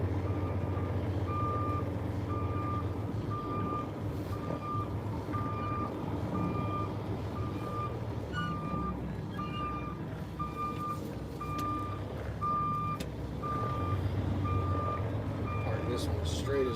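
Steady, evenly spaced truck reversing beeps sound from a tanker rig backing up in a trucking video game, repeating for the whole stretch over a low engine rumble while a person talks.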